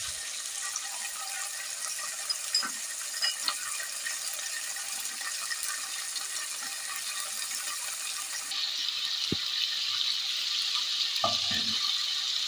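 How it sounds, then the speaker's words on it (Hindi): Garlic ginger paste frying in a pan for a white bean lobia masala: a steady crackling sizzle that grows louder and brighter partway through, with occasional utensil knocks. "अब ये लहसुन अदरक का पेस्ट डाल रही हूँ मैं। इसे मैं 2-3 मिनट भूनूंगी"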